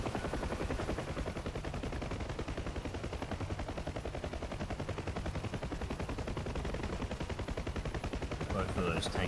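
Destroyer shells pounding targets in the combat flight sim DCS World, heard from a UH-1H Huey: a continuous rapid rattle of firing under the steady drone of the helicopter, with a few sharper cracks near the end.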